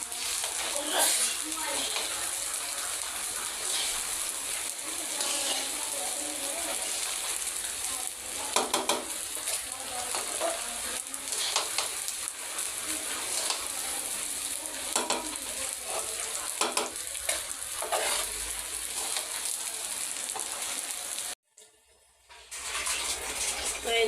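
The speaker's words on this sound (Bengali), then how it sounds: "ভাজার পরে এই যে চালটা প্রায় ভাজার ভিতরেই হয়ে যাচ্ছে আর একটু ভাজতে হবে এখনো হয়নি" Rice fries in a pan and is stirred, giving a constant close crackling sizzle with repeated scraping strokes, briefly dropping out near the end before resuming.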